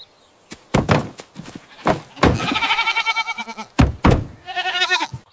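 A goat bleats on a farm in several loud, wavering calls, close by and alone, separated by short thumps.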